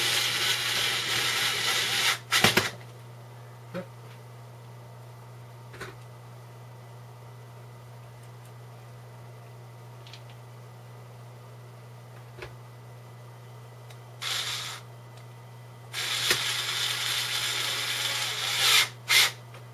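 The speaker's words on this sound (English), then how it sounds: "See if the screwdriver, the cordless screwdriver, will be able to get them in there." A cordless screwdriver drives screws into a DVD drive during a PC build, with short loud whirring bursts at the start, midway and near the end, separated by long quiet stretches.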